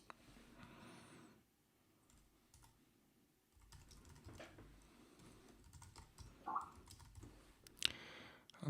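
Someone types on a computer keyboard, with quiet, irregular key clicks coming in short bursts with pauses between them, close and soft against faint room noise.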